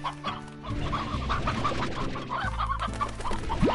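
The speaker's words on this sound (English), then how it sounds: "Alright, one rooster coming up," Rooster clucking in the video game Slime Rancher, a run of short repeated clucks over a busy bed of game music and ambience, ending with a brief rising tone.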